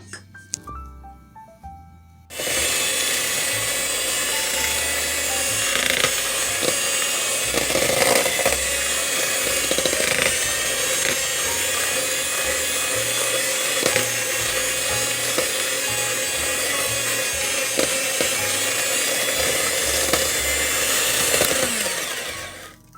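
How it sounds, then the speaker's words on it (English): Electric mixer creaming softened butter with white and brown sugar for chocolate chip cookie dough, a loud continuous motor whir starting after a brief pause and running steadily for about twenty seconds with occasional scraping knocks. "you're going to mix that for 2 minutes until it's creamy"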